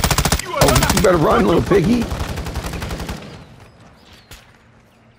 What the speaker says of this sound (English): Shots not hitting him.